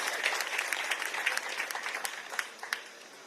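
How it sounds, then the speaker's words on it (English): Audience applause at a government ceremony launching solar-powered plants for hospitals in Sierra Leone, a dense burst of many hands clapping that rises and then thins, heard alone without talk. "I think that deserves a round of applause."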